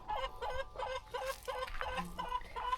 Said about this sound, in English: My chicken's a bit noisy there